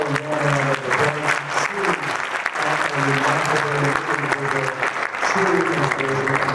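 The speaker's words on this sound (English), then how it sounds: "Ladies and gentlemen, please give Sarah Sari a warm round of applause." Audience applause at a transport and logistics conference, steady clapping from the crowd with a voice speaking over it throughout.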